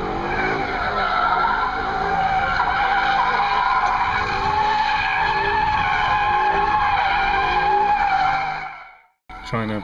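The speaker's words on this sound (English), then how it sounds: "Trying to break the back out on a Mustang, which is, should be pretty easy, but trying to do it around cones becomes more difficult." A Mustang drifts around cones at a drift school, giving a loud, sustained tire squeal with engine roar underneath that runs for about nine seconds before cutting off abruptly, then a brief burst.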